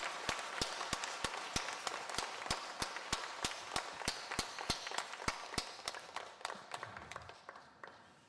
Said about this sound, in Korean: 우리 감사의 박수 보내드리면 좋겠습니다